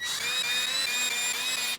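A steady high-pitched whine of a power drill pre-drilling holes in wood for screws, running continuously without pause, close and fairly loud.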